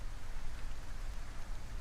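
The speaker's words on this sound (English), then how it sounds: "it's raining on us and the sky is blue" Steady rain from a cloud mod in Kerbal Space Program hisses evenly as a dense, unbroken wash of noise, with no voices.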